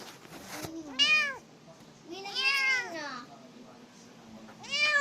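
A pet kitten gives three clear, loud meows close by, spaced about a second apart, with a sharp click and a person's voice between the cries.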